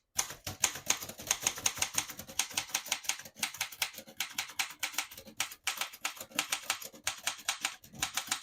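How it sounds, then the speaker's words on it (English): Rapid keystrokes and clacking type bars of a 1927 Remington Model 2 portable typewriter printing in red ribbon, a steady flurry of sharp close clicks with brief pauses, running alone without voices. "I'll type a sentence in red on the next line"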